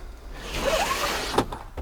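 A pleated cab blind in an Adria 600 SX camper van is drawn across, giving a smooth close sliding swish that rises and ends in a soft click or latch.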